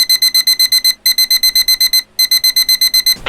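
Alarm clock ringing with rapid, piercing electronic beeps in three quick bursts separated by short gaps, loud and close with nothing else around it.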